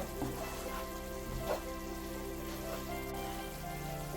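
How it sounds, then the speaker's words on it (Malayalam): Spices frying in oil over a medium flame for an apple pickle make a faint, even sizzle with soft crackles and a low steady hum beneath. "ഒരു മീഡിയം ഫ്ലെയിമിലിട്ട് വേണം നമ്മൾ ഇതെല്ലാം മൂപ്പിച്ചെടുക്കാൻ"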